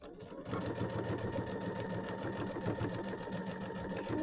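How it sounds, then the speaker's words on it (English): A sewing machine runs steadily while machine-stitching down the binding of a mini quilt, an even close mechanical whir after a brief quiet start, with no speech over it. "So I'm going to do machine stitch down, so mine's on the back"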